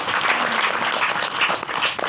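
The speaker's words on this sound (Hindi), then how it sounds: "जोरदार ताली बजाइए।" A crowd claps loudly at a live comedic storytelling performance, a thick burst of hands close by with slight swells and dips in intensity, sustained across the short stretch without speech over it.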